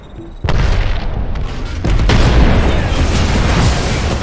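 A frag grenade goes off in the Apex Legends battle royale shooter with a loud, close boom that swells into a sustained rumbling blast and stays heavy to the end.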